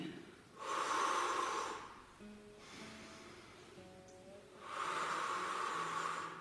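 Close, audible breaths from a person doing a pilates scissors leg exercise, two long airy inhales and exhales in steady rhythm, with faint tonal sounds murmuring quietly underneath.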